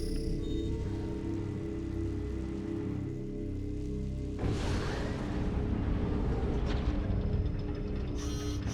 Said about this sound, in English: But now I can bathe in this lovely acid rain